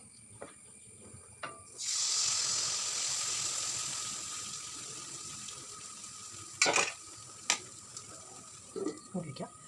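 Rice flour appam batter sizzles in hot coconut oil, a steady frying hiss that swells suddenly, then slowly fades, with a few sharp clatters of a utensil near the end.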